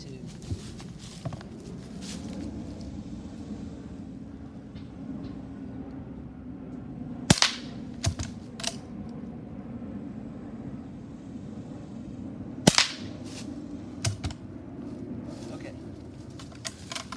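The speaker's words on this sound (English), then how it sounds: "these Colibris are shooting at a lot lower velocity than an actual 22." A Rossi Rio Bravo .22 lever-action rifle firing low-velocity Colibri rounds outdoors, giving a few sharp, quiet cracks spaced seconds apart over a steady low background hum.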